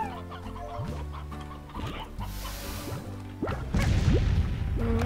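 Chickens cluck and squawk in the farming game Slime Rancher, several short rising calls in a row with swishing and thudding game sounds, the busy layered clucking growing louder toward the end.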